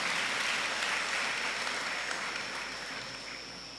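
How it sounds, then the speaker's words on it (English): A dense, sustained round of applause fills the hall at a university inaugural lecture. The crowd claps steadily and loudly, then fades slightly toward the end, with no voices over it. "Please let's give him a round of applause."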